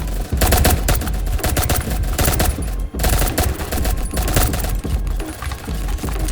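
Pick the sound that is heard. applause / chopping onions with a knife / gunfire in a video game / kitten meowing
gunfire in a video game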